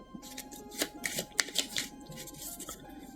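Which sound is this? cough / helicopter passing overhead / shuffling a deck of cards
shuffling a deck of cards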